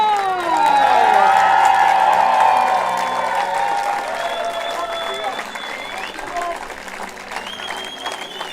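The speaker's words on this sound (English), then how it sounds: "Please give a big applause for our home team," A crowd applauds and cheers for the home team Denmark at a men's softball European championship. The applause is loud and swelling at first, then fades gradually, with an announcer's voice ringing out over the clapping.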